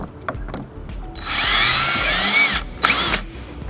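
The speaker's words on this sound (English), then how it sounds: "we're gonna go ahead and get some holes drilled for our hardware" A power drill bores holes for trailer wiring bracket hardware on a 2002 Buick Rendezvous, with a loud sustained whine rising in pitch, then a shorter second burst after a brief pause.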